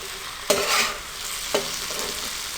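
Whole spices frying briefly in oil on a flat griddle for tawa pulao, a bright hissing sizzle with two quick stirring scrapes about a second apart.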